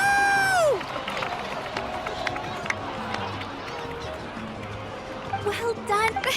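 Crowd cheering and clapping at a feast in Genshin Impact, honoring a young warrior, with a brief whistle-like tone at the start and lively babble and voices throughout, rising again near the end.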